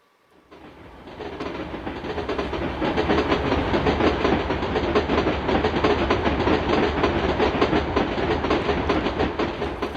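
A train rumbles along the rails, building from silence to a steady loud roll with rhythmic clickety-clack of wheels over track joints.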